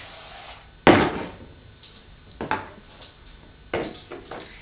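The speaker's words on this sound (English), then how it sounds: "Give it a nice spray because you do not want it to stick" A few short hissing bursts of aerosol cooking spray onto a round cake pan, with light metallic clatter of the pan between them.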